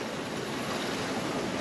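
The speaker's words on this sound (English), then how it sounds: "We've had all types of wind and waves, anywhere from 3 to 7+ foot waves." Ocean waves at sea during an Atlantic crossing by sailboat, with swells running three to over seven feet, give a steady, dense roar of rushing water and wind that holds at an even level throughout.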